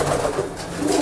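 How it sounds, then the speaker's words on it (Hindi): Rampuri pigeons in a home loft coo in a steady, continuous low murmur, close by and fairly loud, with overlapping soft calls and no talking. "तो ये वो रामपुरी कबूतर हैं"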